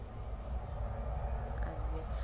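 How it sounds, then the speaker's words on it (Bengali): A train approaching along a nearby track, heard as a steady low rumble that holds at moderate loudness through the whole short stretch, with no clear talking. "ট্রেন আসতেছে"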